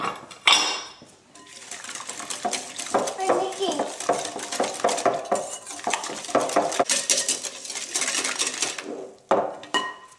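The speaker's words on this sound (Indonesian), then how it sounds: "Saya akan kocok-kocok sampai tercampur rata lagi." A whisk clatters rapidly and steadily against a bowl while mixing non-fat dry milk powder into a soft pull-apart bread dough mixture, with a busy metallic clinking that stops briefly near the end.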